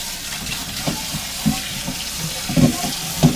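Water runs from a kitchen tap into a sink during dishwashing, a steady broadband hiss with occasional clinks and splashes of dishes near the mic, with no voices.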